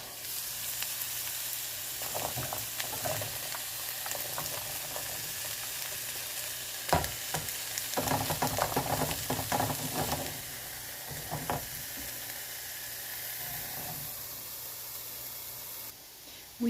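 Yellow squash, zucchini, celery, broccoli and onion stir-frying in a pan, a dense continuous sizzle with bursts of louder crackling and stirring around the middle, heard close with no talking over it.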